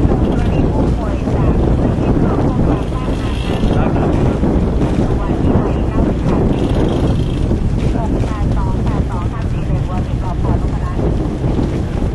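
A boat motors along on open water, a loud, continuous engine drone mixed with heavy wind buffeting, with occasional voices faintly underneath.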